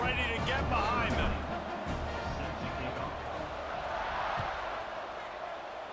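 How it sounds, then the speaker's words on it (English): Stadium crowd in the College Football 26 video game roars steadily at kickoff, a broad, continuous wash of cheering that swells early and holds under a commentator's voice. "this crowd now ready to get behind them"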